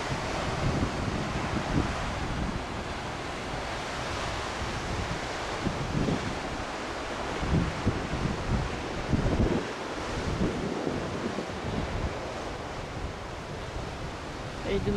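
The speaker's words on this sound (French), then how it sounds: "Le vent a un peu faibli par rapport à tout à l'heure." Strong coastal wind buffets the microphone on the clifftops at Land's End, England, with surf rumbling beneath in a continuous roar.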